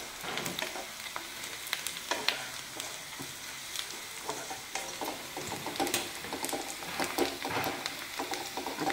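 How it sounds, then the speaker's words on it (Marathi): Turmeric and softened onions sizzle in hot oil over a low gas flame for poha, a soft continuous frying crackle with light scrapes and ticks of stirring throughout. "हळद पण तेलात छान परतून घेऊया"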